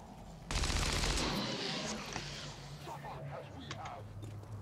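Gunfire from the video game XCOM 2, a loud sudden burst of shots that starts abruptly and then tails into a dense, rumbling battle wash with scattered sharper reports.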